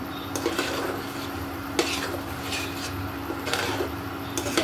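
A spoon stirs beetroot in a cooking pot, making repeated scraping and clinking knocks against the metal over a steady background hum.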